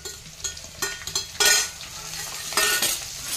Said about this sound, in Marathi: आता हे वाटलेलं मिरची, जिरं, बडीशोप आणि हे धने हे सगळं तेलात टाकून घ्यायचं